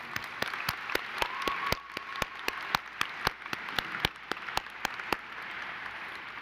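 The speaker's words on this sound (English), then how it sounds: "Let's take a minute to show them our appreciation with a round of applause." Scattered applause at a university graduation ceremony: separate, sharp handclaps from a small number of people, fairly close and uneven in rhythm, lasting several seconds with no talk over them.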